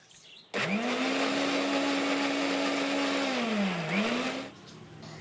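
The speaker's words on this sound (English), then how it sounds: "Once they are nice and soft, blend them into smooth paper pulp." A blender roars steadily for several seconds as it blends soaked paper into pulp, its motor pitch dipping briefly under load before rising again and cutting off.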